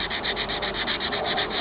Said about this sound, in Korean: 이렇게 사포로 수정을 해주시면 돼요.